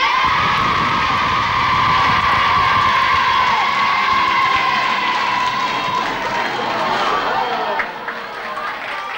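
Studio audience on a Dutch TV show greeting a band with loud, sustained applause mixed with cheers and whoops, thinning out near the end.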